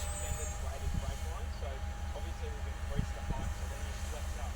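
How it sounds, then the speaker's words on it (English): A train rumbles past nearby, a steady heavy roar with clanking and faint wheel squeals, while a voice talks over it. "We've got a train just coming past,"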